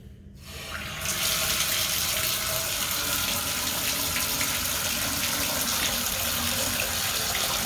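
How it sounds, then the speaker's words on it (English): Hot water carrying debris gushes from a bathtub tap during a water heater test. After about a second of quiet it runs as a steady, loud, close rush with no talking. "Here we go with the hot water and debris."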